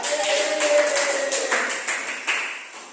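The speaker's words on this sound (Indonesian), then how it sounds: "Tepuk tangan untuk kanan." Students clapping in an elementary school science class, a sustained patter of applause from a nearby group lasting a few seconds, with a few sharper bursts as it tapers off.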